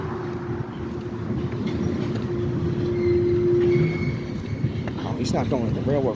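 A Norfolk Southern GP switcher locomotive works tank cars in a rail yard, a steady low engine rumble with a sustained tonal drone, rattling cars and brief squeals near the end.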